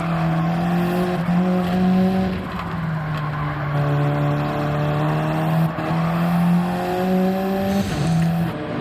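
GT3 race cars in a racing video game, a loud sustained engine drone with rising and falling pitch through gear shifts, several cars audible together, with brief tire squeal.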